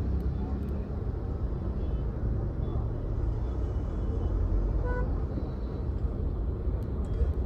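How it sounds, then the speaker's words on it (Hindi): Heavy evening traffic in Noida makes a steady, dense low roar of engines and road noise close by, continuous throughout with only a faint brief tone rising near the middle. "ट्रैफिक भी यहाँ पे बहुत है, दिल्ली जैसा हाल हो रहा है अभी"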